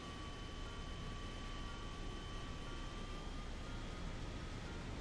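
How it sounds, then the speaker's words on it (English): Yak-41 jet engines in the War Thunder video game spool up to power, a steady broadband roar with a faint high whine, constant and fairly quiet throughout with no talking. "let's pull the engine up."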